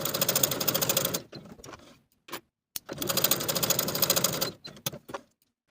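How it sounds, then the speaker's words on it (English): A sewing machine runs basting stitches along the bottom edge of a knit dress bodice. Two rapid mechanical bursts of about a second each are separated by brief pauses and clicks, close and clear with no talking. "I'm going to sew basting stitches from notch to notch on both sides of the bottom edge of the bodice."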